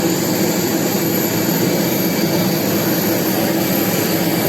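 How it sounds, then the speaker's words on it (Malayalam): An IndiGo airplane's jet engines roar in a loud, constant, broadband drone, with a steady whine held throughout and no gaps or voices. "ഇതാണ് ആ ഫ്ലൈറ്റ്."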